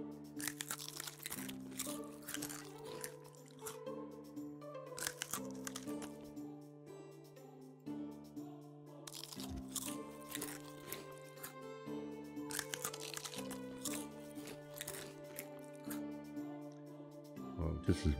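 A character in the medieval survival game Medieval Dynasty eats roast meat: repeated crisp crunching and biting bursts in an irregular rhythm, close and distinct over steady background game music.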